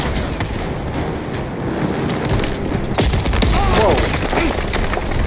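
Tank cannon booms and rapid gunfire crash through a dense Call of Duty Vanguard battle while a stolen tank rolls forward, loud and continuous, with a man exclaiming over the din.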